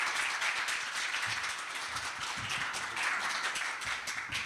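A university forum audience applauds to welcome the invited speaker, a steady broadband clapping wash from a full room that runs evenly throughout with no talk over it.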